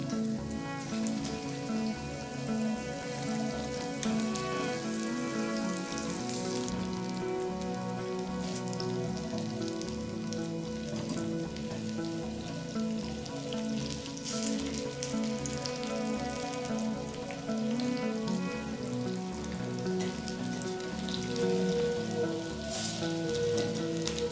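Drumstick flower fritters fry in hot oil with a steady, dense crackling sizzle that runs the whole time, loud and close, with no one speaking.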